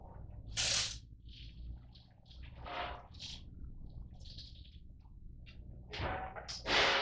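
Water splashes and sprays over a freshly silvered glass mirror in irregular bursts, with short hissing rinses and drips, fairly close and moderately quiet.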